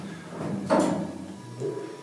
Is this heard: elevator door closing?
yes